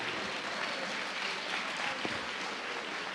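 A church congregation applauds after a sermon, a steady wash of clapping that fills the clip from start to finish at an even, moderate level with no break.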